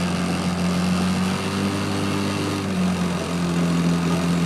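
A 1959 Evinrude 5.5hp Jubilee outboard motor runs steadily on a fishing boat, a constant droning hum heard close and loud with no talking.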